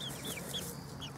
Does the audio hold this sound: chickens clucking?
yes